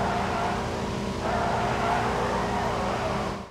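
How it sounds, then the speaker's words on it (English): Motorcycle tires roll and skid in the video game PUBG, a loud continuous rushing road noise with a faint squealing edge that holds steady for a few seconds before cutting off. "they did add some new motorcycle tire sound effects"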